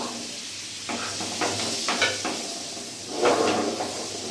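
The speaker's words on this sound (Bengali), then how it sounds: "এটা আমি বাটারের সাথে কিছুক্ষণ ভাজা করব ফ্রাই করে নেবো" Sliced onions and tomatoes frying in butter over a high gas flame, a steady close sizzle with occasional stirring scrapes and clinks of a spatula in the pan.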